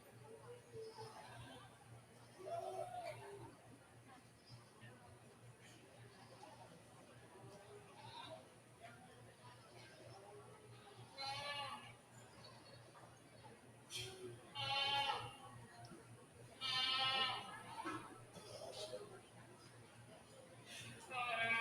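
Nubian goats bleat now and then in a large arena at a national dairy goat show, while amplified announcer talk runs steadily across the scene, with scattered crowd noise behind.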